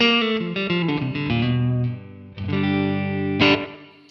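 A Fender electric guitar plays through a Quad Cortex country preset with light compression, slapback echo and light reverb, giving a twangy clean tone. Sustained chords and picked notes ring loud and alone.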